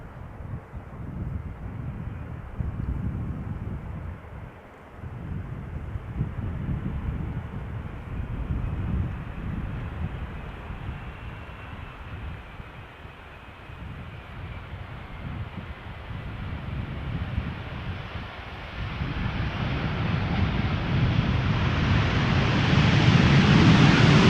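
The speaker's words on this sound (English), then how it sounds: "Teeny tiny Embraer 175 behind it." An Embraer 175 airliner arrives at Schiphol Airport from Hanover, heard as a broad, distant engine rumble mixed with wind noise that swells and grows louder toward the end.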